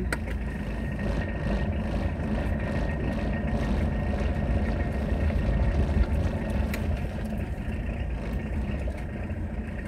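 A Citroën BX turbo diesel car reverses with a steady, loud, rumbling engine drone that holds even throughout and carries no speech.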